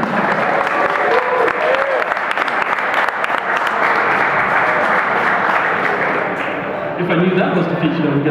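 Loud, dense applause from a large crowd at a Battlefield 3 technology talk at GeForceLan, sustained clapping that tapers slightly near the end, with a voice coming in at the finish.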